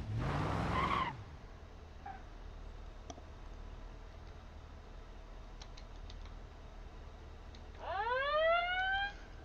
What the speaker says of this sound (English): Oh, siren.